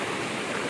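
River water rushing over rocks in a Negeri Sembilan stream, a steady, dense broadband flow heard up close with no voices.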